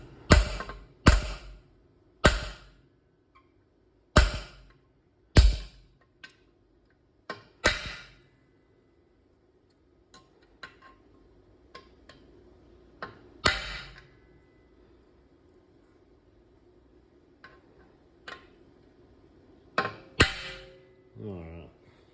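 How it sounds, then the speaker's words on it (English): Hammering a check ball into an automatic transmission case during a budget trans-brake build for a drag car, sharp metallic strikes in uneven bursts, loud and close, with a few lighter taps and quiet handling noises between. "you hammer this check ball in."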